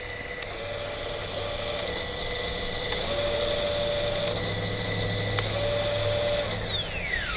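An electric motor in an RC rock crawler car whines steadily, stepping up and down in pitch across several speed changes, close and alone, with a brief falling whine as it coasts at the end.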